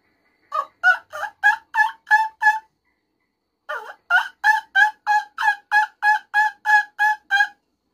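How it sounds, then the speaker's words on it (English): Ozark Mountain wing bone turkey call played alone in two bursts: a quick run of about six sharp yelping notes, a pause, then a longer even series of around twelve clear, close yelps. "Ozark Mountain wing bone call."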